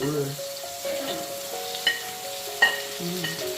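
Sausage frying in a pan at a home breakfast stove, a light continuous sizzle with a few small pops and clinks, fairly quiet and without talk.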